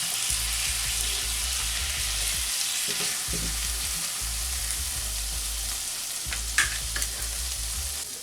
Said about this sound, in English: This frying gives a good finish to the chicken.